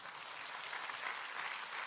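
Faint, distant audience applause for Indonesia at a gathering, a soft even patter of many hands that carries on throughout with no voices over it.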